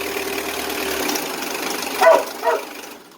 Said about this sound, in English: Sorry for the dog noise and the English,